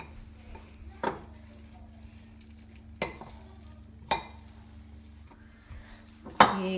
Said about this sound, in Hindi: सबसे पहले हम लेना है बाउल और उसमें हम आलूओं को मैश कर लेंगे।